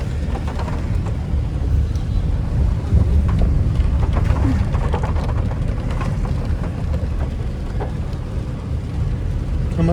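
Heavy rain drums steadily on a car during a monsoon drive beside Bhimtal lake in Uttarakhand, a dense constant hiss with low rumbling and faint voices underneath.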